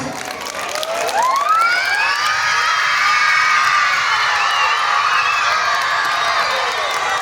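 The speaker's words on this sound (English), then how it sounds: "Children, give a big round of applause." A big group of children at a school alumni gathering cheers and shouts loudly and continuously, with high rising whoops and squeals filling the hall.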